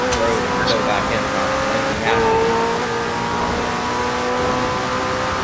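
McLaren Senna engine held at full throttle in the Forza racing game, a loud, sustained high-revving drone with steady harmonic bands and slight pitch shifts, joined by other race cars and occasional talk.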